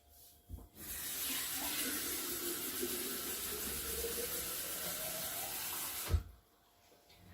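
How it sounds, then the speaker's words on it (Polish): Cold water poured steadily from a tap into a cooking pot, a continuous rushing splash with a faint rising pitch as the pot fills, lasting about five seconds before it stops abruptly. "Tutaj wlewam zimną wodę"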